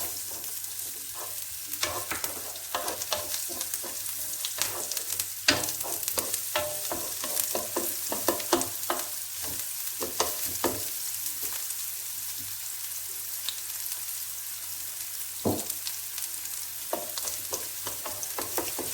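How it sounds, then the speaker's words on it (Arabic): Onion and garlic sauté in a pan as the base for a seafood paella, giving a steady crackling sizzle with scattered pops and stirring scrapes, close and moderately loud, with no talking. "نضيفو لها البصله ونخليوها تشحر مزيان، ونزيدو لها الثومه"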